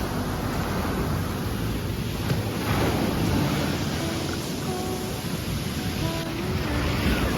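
Strong sea waves roll onto a beach at Lefkada, Greece, a loud, continuous wash of surf with wind noise, close and steady throughout with no voices.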